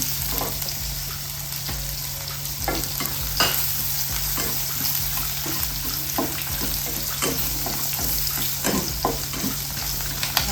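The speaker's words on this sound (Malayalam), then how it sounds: "ഇനി ഇതിലോട്ട് നമ്മളിപ്പം ചതച്ച് വെച്ച ജീരകവും വെളുത്തുള്ളിയും മല്ലിയും കുരുമുളകേ അത് ഇതിനകത്തോട്ട് ഇട്ട് കൊടുക്കാം" Crushed cumin, garlic, coriander and black pepper fry in hot oil in a pan. A steady close sizzle runs throughout, broken by frequent scraping stirs. No one speaks.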